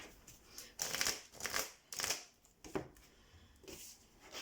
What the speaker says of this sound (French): je vais préparer les cartes pour vous